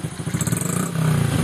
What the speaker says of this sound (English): Rev the throttle. Vroom, vroom.